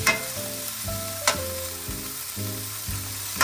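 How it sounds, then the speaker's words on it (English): Broccoli sautéing in a pan for a lemon garlic Parmesan side dish, a close, busy sizzle and crackle with stirring scrapes and clatter over bright background music, no one talking. "we're going to saute this"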